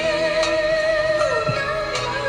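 A looped sample lifted from a track for a beat, playing alone as a steady sustained musical texture with layered tones, a gliding pitch sweep midway and a few soft transient hits.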